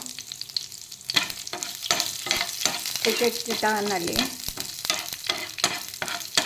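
Mustard seeds, cut chili and curry leaves crackle and sizzle in a spoonful of hot oil for tempering a lentil sambar, with sharp popping bursts over a continuous frying hiss and brief scraping stirs; a voice speaks briefly.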